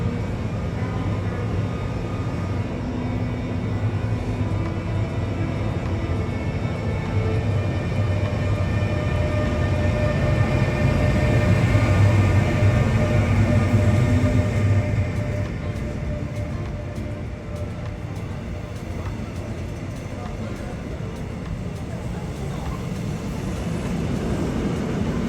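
A Siemens electric locomotive on a Korail Mugunghwa-ho train at Suwon Station powers up and hauls its coaches away, giving a sustained musical electric hum over a low rumble that swells and then eases.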